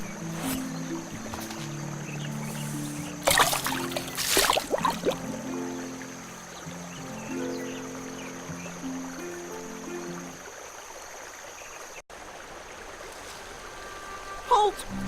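Boat gliding down a brook in the adventure game The Night of the Rabbit, with steady water flowing and trickling beneath a stepping melodic music score and a few brief louder splashes.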